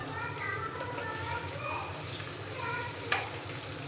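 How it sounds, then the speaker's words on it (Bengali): Paneer cubes sizzle steadily in hot oil in a pan for matar paneer, a soft continuous crackle with a brief sharp clink of a ladle near the end. "এইভাবে আমি বাকি পনিরগুলোও ভেজে নেব।"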